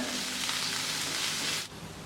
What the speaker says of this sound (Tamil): மல்லி கருவேப்பிலை இதெல்லாம் சேர்ந்து ஒரு மூணு நிமிஷத்துக்கு வதக்குங்க